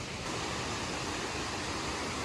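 A waterfall near Japanese campsites, heard as a steady, even rush of falling water throughout, with no other sounds standing out.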